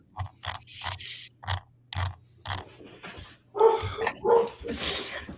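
Dogs barking excitedly indoors, a run of sharp, separate barks and yips at a steady pace, fairly close, with scraping and a short whimper near the end and no talk.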